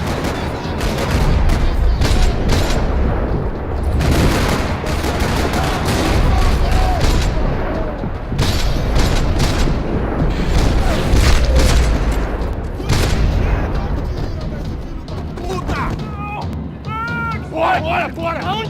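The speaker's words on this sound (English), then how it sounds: "Another parking lot rattling with gunfire." Dense bursts of gunfire and booms in the video game Max Payne 3 rattle almost continuously across a parking lot, loud and close, with shouting voices in Portuguese mixed in and a brief quieter stretch near the end.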